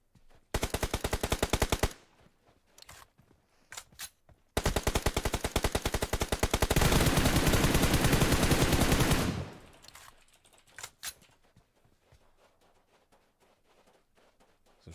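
Gunfire in the mobile battle royale game PUBG Mobile: loud rapid automatic bursts, a long sustained volley in the middle, followed by scattered single shots and quieter distant pops.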